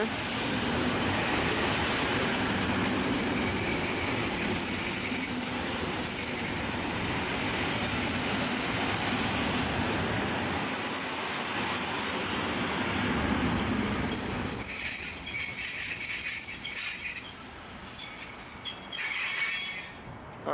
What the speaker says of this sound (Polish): Tymczasem niezapowiedziana SKM-ka przejazd techniczny.